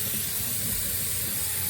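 Brake cleaner is sprayed on a Nissan fuel tank as a continuous close, loud hiss that stays steady throughout, with no talk.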